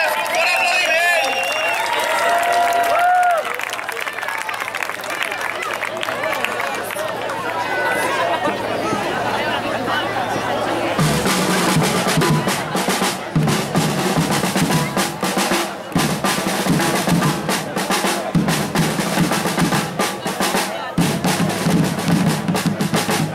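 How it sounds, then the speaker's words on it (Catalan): Crowd applause at a youth neighbourhood sports event, loud dense clapping mixed with chatter and cheering, with the busiest clapping toward the end. "I avui per nosaltres un bon aplaudiment!"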